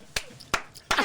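Three sharp, isolated hand claps, close and evenly spaced, with quiet speech-like murmurs in the gaps.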